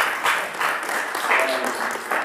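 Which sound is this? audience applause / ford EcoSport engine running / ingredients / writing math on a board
audience applause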